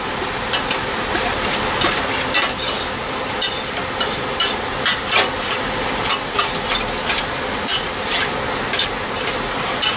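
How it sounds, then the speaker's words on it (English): Meat being stirred with taco seasoning in a pan, a steady scraping and rubbing of the utensil over a low sizzling background, with repeated short scrapes close by. "Mix this up."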